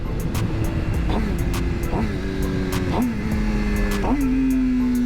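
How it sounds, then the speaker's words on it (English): Motorcycle engine rev-matching on a downshift, with a steady drone that steps through several quick throttle blips about a second apart, each pitch jump settling lower, loud and close under constant wind noise. "And then we're going to rev match down."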